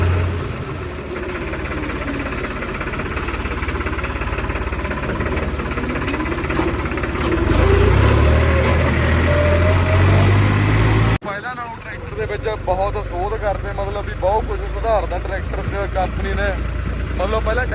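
A New Holland 4x2 tractor engine rumbles steadily at close range, a low continuous drone with someone talking over it and a brief break partway through.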